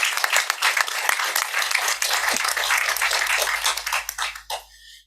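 Council members at a full council meeting applaud their retiring chief executive, a crisp burst of many hands clapping close and loud that thins out and stops near the end.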